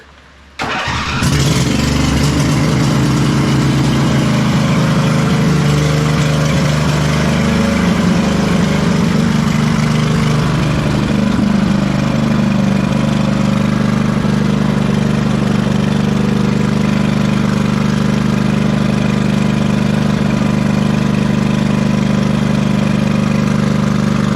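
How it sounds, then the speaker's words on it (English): A 2005 Husqvarna YTH2448 ride-on lawn mower engine cranks, catches and settles into a loud, steady running drone that continues unbroken, close by and with no talk over it. "I want to see if it drives. So let's give it another test ride."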